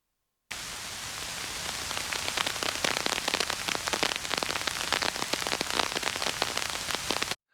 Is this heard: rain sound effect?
yes